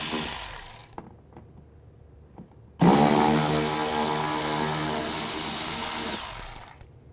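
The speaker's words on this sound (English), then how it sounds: "Use a T20 socket and take these two screws out." A power tool drives out screws with a T20 socket on a 2010-2017 Chevrolet Equinox during rear shock work: faint ratcheting clicks, then a loud steady whirring burst of about three and a half seconds that stops abruptly.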